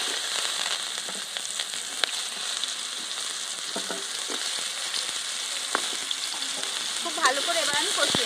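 Sliced ridge gourd frying in hot oil in a pan, a dense steady sizzle with occasional pops and crackles, close and loud throughout with no voices.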